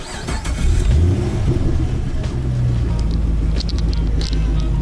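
A Rally Fighter's engine turns over and catches, settling into a loud, rumbling idle close by, with wind buffeting the microphone.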